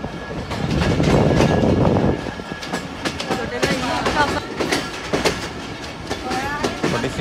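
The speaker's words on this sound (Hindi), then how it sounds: "पाकिस्तान एक्सप्रेस मेन लाइन से ब्रांच लाइन की तरफ जाते हुए" Pakistan Express passenger train rolling from the main line onto a branch line near Wazirabad, a loud close rumble with rhythmic clickety-clack of wheels over rail joints and some metallic squeal, heard from inside an economy-class carriage.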